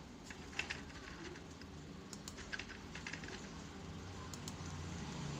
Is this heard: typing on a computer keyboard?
yes